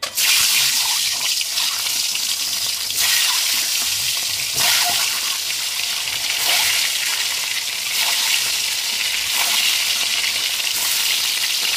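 Whole eggs with slit whites, rubbed with salt and turmeric, frying in hot oil in a kadai: a loud, continuous close sizzle with faint stirring scrapes and no voices.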